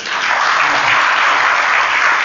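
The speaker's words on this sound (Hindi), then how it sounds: "तो फिर ताली तो बजाओ।" A crowd gathered at a religious assembly for Sri Radhastami claps loudly and continuously, a thick, even wash of applause with no talking over it.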